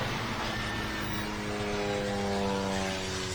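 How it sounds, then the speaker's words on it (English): A propeller airplane drones overhead as a steady hum while it passes, heard during a water test of a 2023 Hewescraft 240 Ocean Pro boat with a Yamaha F300 outboard. "Okay, then an airplane just went,"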